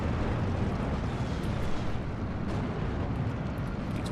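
Continuous dense battlefield din in Steel Division 2, GNR units firing on Pioneers amid a steady rumbling wash of distant gunfire and explosions, loud and unbroken with no clear individual shots.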